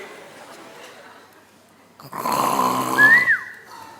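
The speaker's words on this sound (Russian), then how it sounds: "Да точно она храпит." A woman snoring in a comedy fairy-tale sketch, heard as a loud, harsh snore with a rising, whistling nasal end, following a quiet stretch of low room noise.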